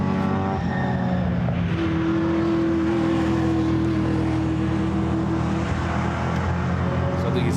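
Group A touring cars, among them a Listerine-liveried Ford Sierra RS500, roar past on the Goodwood circuit, loud and close, with a sustained engine drone and one steady high tone through most of the pass, under faint commentary voices.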